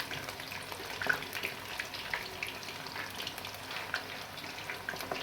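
Chicken pakora sizzling in hot oil over a low flame, a soft continuous crackle and bubbling with small irregular pops, fairly quiet and steady with no voices.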